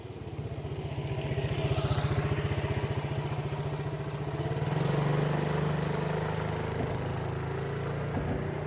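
A scooter riding along the old A9 road, its small engine buzzing steadily with a pulsing mid-low drone that rises and falls as the throttle changes, close and continuous, with wind noise and no talk.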